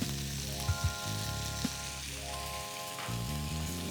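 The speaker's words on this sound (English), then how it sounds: "I'm going to add mutton now." Mutton pieces hit a pan of golden-brown onion and ginger garlic paste for achari gosht curry, a loud continuous sizzle with a few sharp clicks and spatters, close and alone without speech.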